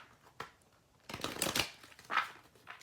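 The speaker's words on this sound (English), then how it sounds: "That wasn't a great shuffle either." A deck of tarot cards being shuffled by hand, heard as a soft papery burst followed by a longer rustling flurry and a brief final riffle, close and fairly quiet with no talking.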